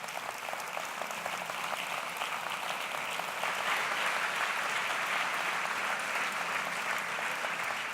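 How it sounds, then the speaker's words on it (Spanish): Audience applause welcoming a panel at an anniversary commemoration of the Ezkaba prison escape, sustained dense clapping from a crowd in a school hall, even and continuous for the full stretch. "Y otro aplauso de bienvenida a nuestra mesa de hoy"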